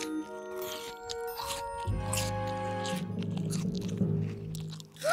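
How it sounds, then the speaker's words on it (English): Cartoon character crunching and munching on a rain pear, a series of close, wet biting and chewing sounds with squishy crunches over a soft musical background. "That sort of scrunching, munching noise."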